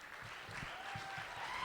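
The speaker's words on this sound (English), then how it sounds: "Let's give them a round of applause." Applause for the contestants' parents at a scholarship pageant, a steady wash of hand clapping from a crowd that holds at a moderate level throughout, with no voices over it.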